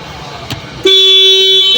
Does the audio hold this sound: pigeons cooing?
no